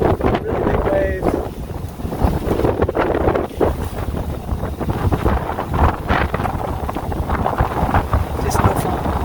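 A sailboat in rough Atlantic water, with wind buffeting the microphone and waves sloshing and crashing against the hull in a continuous loud roar, plus a faint creak or whistle near the start.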